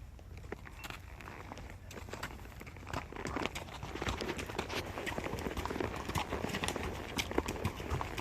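Horses walking a wilderness trail, with steady clip-clop hoofbeats close by and growing a little louder, set among rustling and crunching of the ground and gear.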